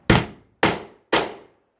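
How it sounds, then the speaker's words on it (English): Three firm hammer blows setting a metal grommet closed on a towel, evenly spaced sharp strikes, close and loud, each with a short decay into silence. "couple good firm hammers"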